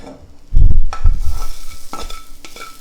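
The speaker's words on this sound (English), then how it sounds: "steamed at first, and then sauteed right in the pan" Green beans with garlic and ginger are tossed in a hot pan, a loud close burst of stirring and sizzling that settles into a softer, steady fry with a few clinks, no speech.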